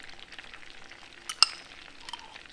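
Minced garlic dropped into a seafood boil sauce in a pan, a soft continuous sizzle with light stirring and one brief sharp clink midway, close and quiet.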